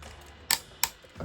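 A toy robot's ratcheting hip flap gives two sharp, close clicks about a third of a second apart, followed by a softer rustle of handling.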